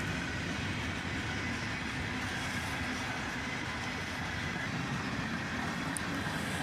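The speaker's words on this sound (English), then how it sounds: "We're about 8 minutes in here and the train's finally picking up some speed." A freight train hauled by EMD diesel locomotives rumbles steadily past as it picks up speed, with a continuous low roar and rattling wheels, a faint high squeal near the end, no voices.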